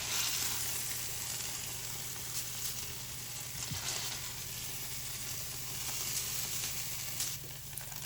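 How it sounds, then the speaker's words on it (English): Pork tenderloin searing in a hot pan gives a steady, even hiss of sizzling fat, with a couple of faint clicks and a slight drop in level toward the end. "You will sear the pork to lock in those wonderful flavors."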